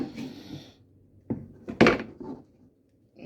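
A knife chops peppers in half on a cutting board, giving a few sharp, close knocks and clatters separated by brief pauses.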